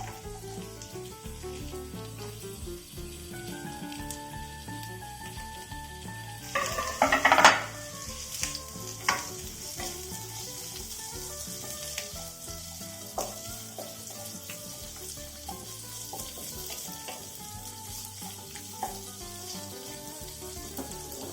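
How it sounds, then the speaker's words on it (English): Beans frying and stirred in a hot pan for veggie rice, a steady close sizzle with scraping stir strokes and a burst of clatter around the middle, background music underneath. "Now I am adding the beans."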